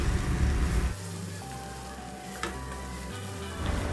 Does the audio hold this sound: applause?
no